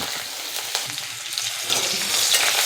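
Close, continuous sizzling of mustard seeds, green chilli and curry leaves being fried in oil for tempering, with a few stirring clicks and the crackle building slightly toward the end.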